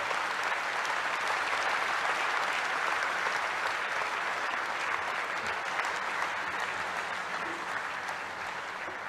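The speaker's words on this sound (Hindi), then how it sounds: "जोरदार, दमदार, जानदार तालियों के साथ स्वागत कीजिए भारत के प्रधानमंत्री" Sustained, loud applause from a large audience welcoming India's Prime Minister Narendra Modi at a formal public event in Kerala, steady clapping throughout with no pauses or talk.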